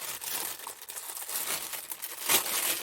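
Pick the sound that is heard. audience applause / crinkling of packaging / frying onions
crinkling of packaging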